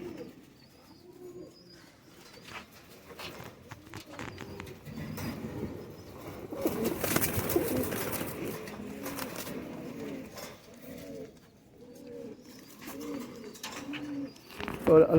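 Sialkoti pigeons cooing in a loft, repeated soft throaty coos overlapping from several birds at close range, with a louder rustling burst midway and faint voices in the background.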